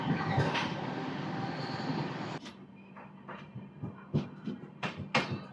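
The Visakhapatnam–Nanded Superfast Express runs between East and West Godavari. A loud rolling rumble is heard from onboard, then drops to a quieter rattle with repeated sharp clacks and knocks from the wheels and carriages.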